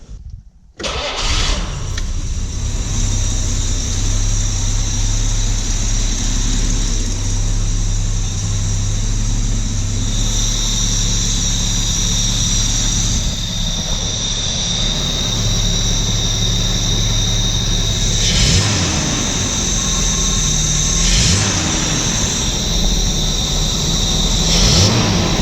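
Jaguar XJ6 engine fitted with triple SU carburettors cranks and catches, then settles into a loud, steady idle that runs on continuously with a few brief throttle blips near the end.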